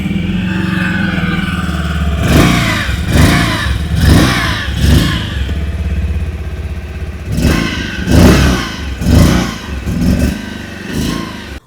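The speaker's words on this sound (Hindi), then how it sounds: "पहले सुन लेते हैं 2025 मॉडल की एग्जॉस्ट नोट।" A 2025 Bajaj Pulsar 150 twin-disc motorcycle idling loud and close, then revved in a series of about six sharp throttle blips that rise and fall back to a steady idle.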